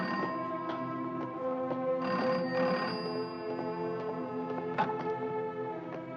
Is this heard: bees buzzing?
no